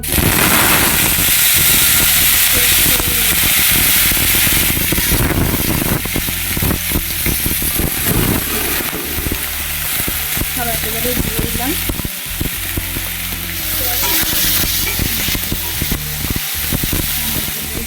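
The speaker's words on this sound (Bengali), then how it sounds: "এখন আমি তেলের মধ্যে সবজিগুলো দিয়ে দিই, সব একেবারেই দিয়ে দিচ্ছি" Chopped vegetables fry in hot oil, making a loud, dense crackling sizzle with sputtering pops and stirring clatter throughout, and no one speaks.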